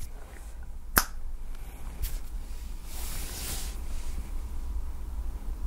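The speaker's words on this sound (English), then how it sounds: "when I snap my fingers, you will wake up" A single sharp finger snap cracks out near the start, followed by a fainter click and a low, steady background hum with no voices.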